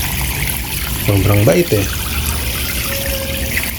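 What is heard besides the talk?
water being poured to fill a container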